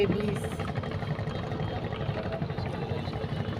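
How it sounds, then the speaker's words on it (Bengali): A sand-carrying launch boat chugs past on a river, its engine a steady low rumble holding evenly throughout at moderate distance, with no talk over it. "বালুর একটা লঞ্চ গেল"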